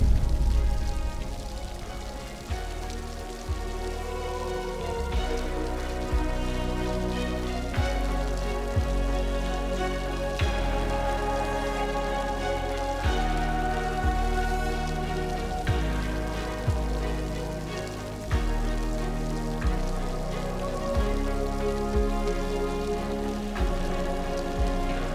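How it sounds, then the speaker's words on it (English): Steady rain falls outdoors in Glencoe, Scotland, a dense continuous patter on surfaces that keeps up throughout with no one speaking. "I'm just literally waiting for the rain to go off"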